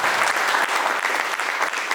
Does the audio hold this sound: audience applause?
yes